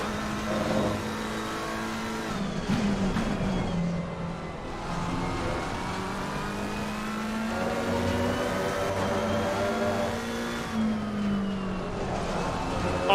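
High-revving race car engine in Assetto Corsa Competizione at Kyalami, a continuous loud sweeping drone with rising and falling pitch as gears change, strained at very high revs throughout.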